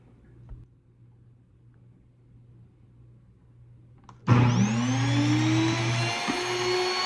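A kitchen grain mill's electric motor switches on abruptly after a quiet hum, then runs at a loud, steady high-pitched whine with a slight rising tone as it spins up.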